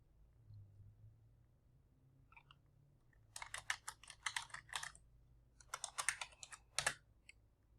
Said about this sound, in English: Just typing in some information on Discord